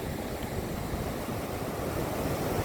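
Flood waters rushing on the Thames River where the falls have disappeared under high water; a steady, dense roar of churning water, loud and continuous, with wind noise on the microphone and no talk.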